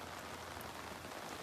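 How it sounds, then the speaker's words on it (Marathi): Rain falling outdoors, a steady, even hiss of drops on surfaces, fairly faint and unbroken, with no voices. "हे चेक करा पाऊस भावांनो"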